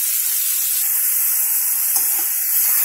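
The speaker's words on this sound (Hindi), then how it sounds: "तुरंत ही बारीक कटा प्याज डाल देंगे, साथ ही साथ लंबा कटा प्याज भी डाल के अब हम इसे सुनहरा होने तक भूनेंगे।" Finely chopped and long-cut onions with cloves fry in hot oil, giving a steady bright sizzling hiss throughout with no voices.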